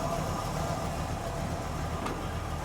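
A 1942 Chevrolet custom pickup engine runs at a steady idle, an even, continuous hum heard up close with no talking.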